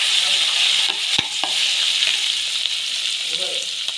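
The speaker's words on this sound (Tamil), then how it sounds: "இப்போ வந்து மிளகாத்தூள்லாம் போட்டு நல்லா வதக்கிட்டு" Spices, curry leaves, dried chilies, fennel and chili powder sauté in hot oil for sambar, a steady loud sizzle with a few sharp clinks of a stirring spoon against the pan, and no talking.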